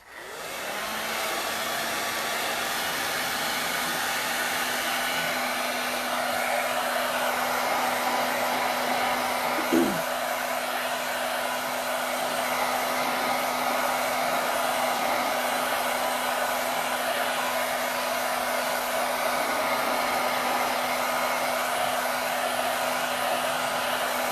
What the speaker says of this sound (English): I'm going to take my blow dryer, and I'm going to dry it on a cool setting.